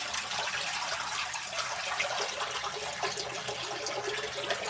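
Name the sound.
water draining through LG ThinQ MEGA washer drain hose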